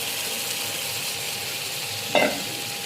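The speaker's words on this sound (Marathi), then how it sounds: "आता वाटाणे टाकूया शिजलेले." Cooked peas tipped into tomato masala frying in a pan, with a steady low sizzle throughout and one brief, louder hissing burst as they land near the end.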